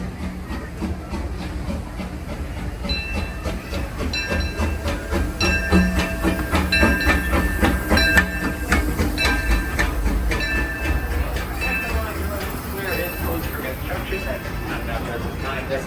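The Disneyland Railroad train runs along its tracks at Disneyland with a steady rumble, rhythmic clickety-clack and some hiss, heard from on board while an announcer talks over it.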